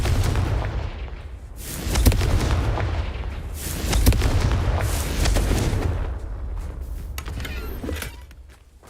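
Confringo explosive spell blasts in a Harry Potter video game, a series of loud booming detonations with rumbling low tails, several heavy bursts around two-second intervals that fade out at the end.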